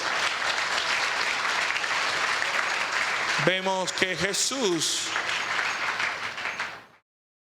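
A church congregation applauds during a sermon, producing loud, dense, sustained clapping that carries on under a brief spoken phrase from the preacher and then fades out near the end.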